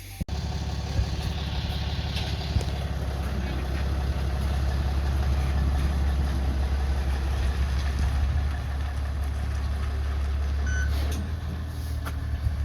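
A truck with a hopper rumbles steadily as it pulls out, engine droning low and constant throughout, with a faint beep or two near the end.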